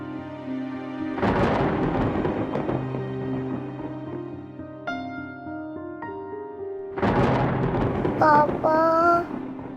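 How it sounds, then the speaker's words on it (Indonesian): Thunder rumbles loudly during a storm in two broad rolling bursts, with dramatic music tones running underneath throughout. "Shiva takut petir"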